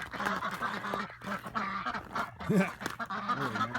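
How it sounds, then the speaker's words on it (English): Ducks and geese quacking and honking outdoors on a cold morning, a dense, continuous chorus of overlapping calls with a louder honk burst near the middle, close and busy throughout. "Come on, duck duck."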